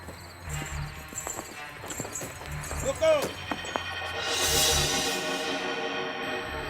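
A horse-drawn tonga on the move, hooves clip-clopping in an uneven rhythm at moderate distance beneath people talking, with a brief rushing swell toward the end.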